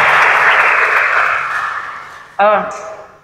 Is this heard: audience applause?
yes